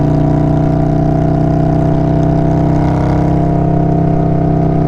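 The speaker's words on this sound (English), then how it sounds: "just a high rev pull first and then maybe try to hit red line" A new Indian Scout motorcycle engine revving high, a loud, close and continuous mechanical drone that holds a steady pitch throughout with no one speaking.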